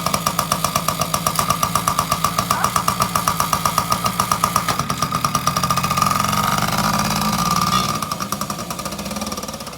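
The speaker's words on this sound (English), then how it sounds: "All right, we got her fired up." A Yamaha PW80 dirt bike engine running just after starting, a loud close rapid two-stroke putter that holds steady and then swells briefly near the end, with no voices.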